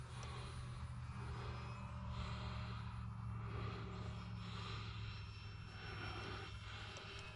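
Balsa wood model airplane on its first flight, a steady propeller and engine drone that holds at a fairly constant level throughout, no talk.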